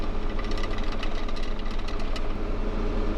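A steady, loud engine rumbles and knocks continuously up close, like a heavy tractor running.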